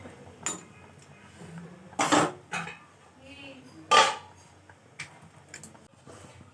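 Metal lid clinking onto a pot of fish curry, with several sharp clattering knocks spaced over a few seconds, close and clear over quiet kitchen background.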